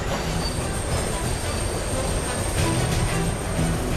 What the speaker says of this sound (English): The largest train repair shop in North America.